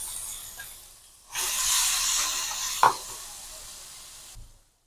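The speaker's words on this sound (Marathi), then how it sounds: "कढीपत्त्याची आणि लसणाची खमंग फोडणी बसली की घालून घेणार मिरची" Ground green chili hits a hot garlic and curry-leaf tempering for raw-mango kadhi, setting off a sudden loud sizzle that hisses steadily for about three seconds, with one quick clink, then cuts off.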